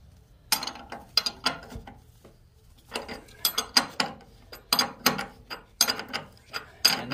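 A wrench ratchets a 19 mm castle nut tight on a go-kart tie rod, with bursts of rapid clicking that stop and restart several times, close and clear.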